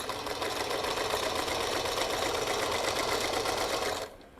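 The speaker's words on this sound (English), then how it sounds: "I kind of like the sound of her sewing. She just hums right along." A vintage 1948 sewing machine hums steadily as it stitches, a close, even whirring rhythm that runs for about four seconds before stopping abruptly.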